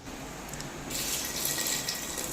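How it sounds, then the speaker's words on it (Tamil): Water is poured into a cooking pot for vegetable biryani with soaked basmati rice, a steady close gushing splash that swells louder partway through and continues without speech. "ஒன்றரை கப் அளவு தண்ணி ஆட் பண்ணிக்கலாம்"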